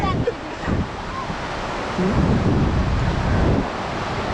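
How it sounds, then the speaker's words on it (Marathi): Sea waves break and wash up on Ladghar beach, a loud continuous roar of surf mixed with gusting wind buffeting the microphone, swelling as a wave comes in. "आता लाट आली"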